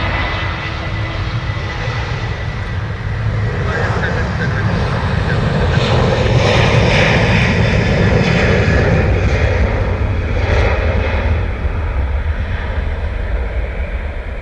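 An Egypt Air airliner taxiing very slowly at Dublin Airport gives off a loud, steady jet engine roar that swells a little in the middle, carried with outdoor wind and background noise.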